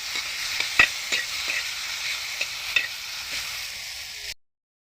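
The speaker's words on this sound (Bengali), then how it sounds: "চলুন এবারে ভালো করে আদাটা ভেজে নিই" Ground ginger paste and turmeric powder fry in a pan, giving a steady, close sizzle broken by sharp stirring clicks, then cutting off abruptly near the end.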